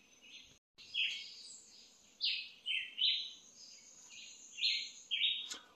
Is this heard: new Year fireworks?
no